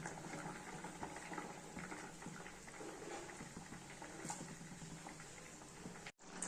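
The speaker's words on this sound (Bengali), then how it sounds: "ঝোলটা ফুটে এসছে" Curry gravy with cauliflower boils in a pan, giving a steady low bubbling and hissing simmer that runs evenly throughout, with a brief dip near the end.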